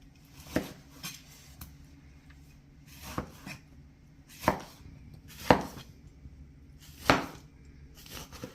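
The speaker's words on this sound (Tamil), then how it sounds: "நல்லா தின் ஸ்லைஸாக கட் பண்ணிவிட்டு சோக் பண்ணிடுறோம்." A knife cuts citrus fruit into thin slices for marmalade, giving sharp chopping knocks on a board roughly once a second, close and distinct over quiet background.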